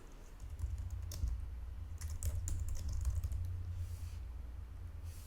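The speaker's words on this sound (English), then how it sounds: "And you can start typing." Keyboard typing in quick, uneven bursts of clicks over a low steady hum, close and moderately loud, with no voices.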